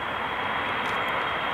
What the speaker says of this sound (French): Mon avion préféré. Celui-là? Oui, 777-320.